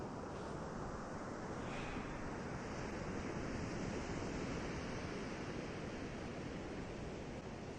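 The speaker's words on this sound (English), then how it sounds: "here comes the wave. The water action is starting to roll back in." Atlantic Ocean surf washing back in over the beach at Fire Island National Seashore, Smith Point, Long Island, New York: a steady, broad roar of rolling water with some wind, continuous and fairly loud throughout.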